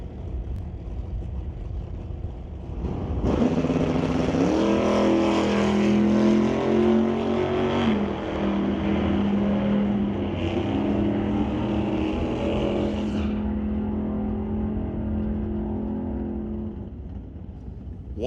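Chevrolet and Chevelle drag race cars launch and roar down the strip, loud sustained engine noise rising and shifting in pitch, close and continuous for most of the run before fading.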